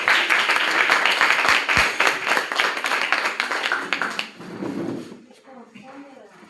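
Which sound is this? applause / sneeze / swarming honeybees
applause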